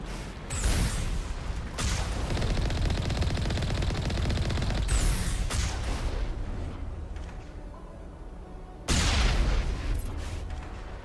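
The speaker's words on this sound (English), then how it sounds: "I love using that heavy cannon right there." Heavy cannon fire in the video game Mass Effect: loud, booming blasts and rapid rattling bursts with sharp onsets, separated by brief drops, dense and close throughout.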